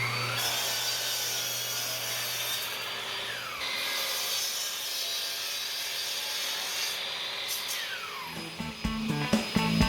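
A saw cuts the ends of a walnut board for a standing desk, with steady rasping back-and-forth strokes for several seconds, then clunks and knocks as the cut finishes, fairly close and with no talking.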